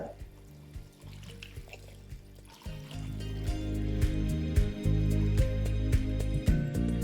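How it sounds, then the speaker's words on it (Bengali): Water is poured into a thin, lightly spiced rohu fish curry cooked with little oil. A quiet start gives way to a steady, fairly loud pouring and splashing rush that continues to the end. "এই স্টেজে আমি এখানে দিয়ে দেবো জলটা"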